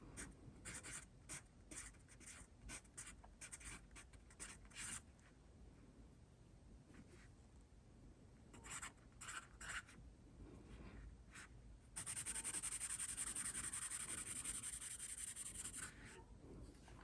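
A Blackwing Coffeehouse Edition graphite pencil scratches across paper in quick bursts of strokes, then a steadier stretch of continuous rubbing, close and quiet with no talking.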